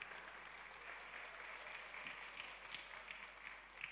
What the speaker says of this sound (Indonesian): Tepukan dong.